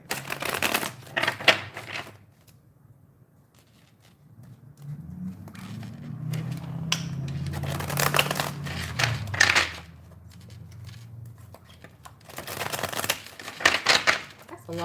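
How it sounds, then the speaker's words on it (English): Tarot cards shuffled at length during a reading, a soft papery riffling and flicking that comes in separate bursts between pauses, close and moderately quiet, with a person talking at times. "A long shuffle, won't it?"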